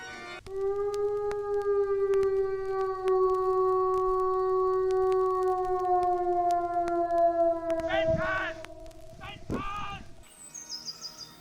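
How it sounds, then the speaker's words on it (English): A long, wavering howl holds steady for several seconds before breaking into warbling, yelping cries that fade out. "its howl could be heard for miles around."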